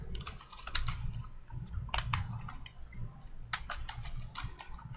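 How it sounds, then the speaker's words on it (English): A password is typed on a computer keyboard as a quick, uneven run of soft clicking keystrokes, close and quiet, with no talking. "type in the new password again to confirm it"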